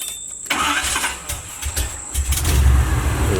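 A cold Chevy box car with fuel injection runs and revs, its engine note rising into a loud, steady mid-pitched roar that builds toward the end, close by with no talking.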